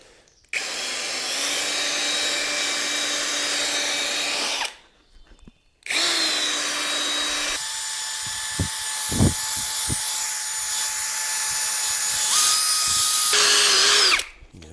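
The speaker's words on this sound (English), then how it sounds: "if you imagine I spin that drill now, it's going to just fling everywhere" A power drill spins a polishing pad on a faded car headlight lens, whining steadily in long bursts with brief pauses, its pitch shifting as it speeds up under load; close and loud.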